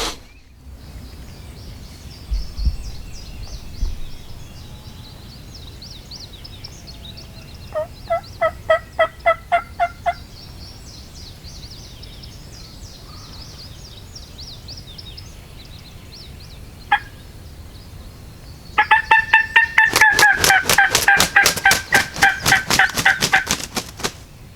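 A bird roosting up on a ridge gobbles repeatedly from a distance. A short rattling series is followed by a lone burst, then a longer, louder run of rapid gobbles toward the end, with no talking.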